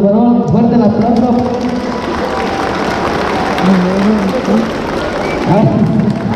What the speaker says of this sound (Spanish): A ver, alza tu varón, fuerte el aplauso